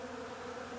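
Honey bees buzzing around a hive during a heather honey harvest, a steady close drone with no voices.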